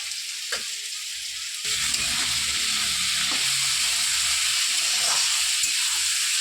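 Potatoes and flattened rice with raisins and chilli frying in a pan for chire pulao, a steady close sizzle and hiss with occasional stirring scrapes, no voices.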